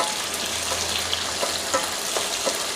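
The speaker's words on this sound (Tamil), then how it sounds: "வெங்காயத்தை போட்டுட்டு அது நல்லா வதக்கிக்கணும்." Chopped onions hiss in hot oil after popping mustard seeds for Tamil potato rice, a loud, dense, continuous sizzle with a few faint crackles and no talking.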